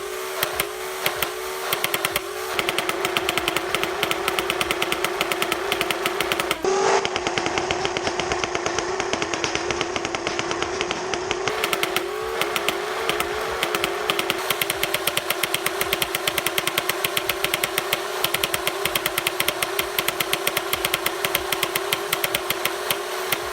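A modified Nerf Rival Nemesis blaster running on a 3S LiPo battery fires outdoors, a loud, sustained motor whine with rapid rattling shots in long continuous bursts and short pauses between them, close to the microphone.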